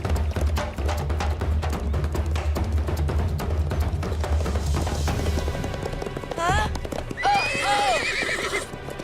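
Hooves pound in a fast, rhythmic gallop close by, then a big grey horse lets out a loud, quavering whinny, followed by another neigh, in a cartoon.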